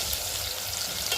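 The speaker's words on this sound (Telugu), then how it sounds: "బాగా నూనె తాగింది, వేపి పక్కన పెట్టుకుంటే బాగుంటుంది. కొంచెం లైట్గానే వేగాలి" Dried prawns fry lightly in oil, giving a steady, close, even sizzle with a soft crackle throughout the short stretch and no voices.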